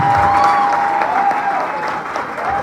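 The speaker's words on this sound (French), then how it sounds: "que je vous demande d'applaudir" A crowd at a political gathering applauds loudly and continuously, a thick wash of clapping with a thin steady whistling tone running through it, slightly easing toward the end.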